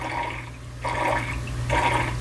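Backyard guppy pond pump gurgling and slurping air because the water level is low, a steady watery churn with bursts of bubbling coming in surges.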